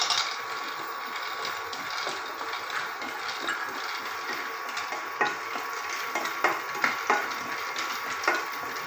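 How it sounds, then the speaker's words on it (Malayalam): Peanuts dry-roasting in a pan without oil, stirred continuously with scattered scrapes and light ticks over a steady hiss, close and fairly quiet, no voices. "ചുമ്മാതെ ഇങ്ങനെ പാനിലിട്ട് വറുത്തെടുത്താൽ മതി."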